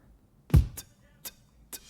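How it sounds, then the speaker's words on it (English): A short beatbox pattern: one heavy, booming kick followed by three crisp snare-like hits, soaked in reverb and gritty distortion. "So what I'm doing is I'm smashing it into this horrible verb"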